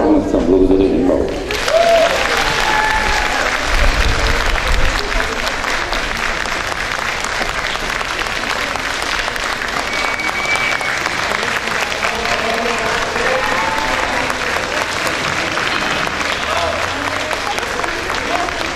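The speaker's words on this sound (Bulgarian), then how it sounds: "благодаря ви много за възторжените аплодисменти" Enthusiastic audience applause fills a hall in a dense, sustained wash of many hands clapping at steady volume, continuing for well over fifteen seconds after a brief opening of other sound.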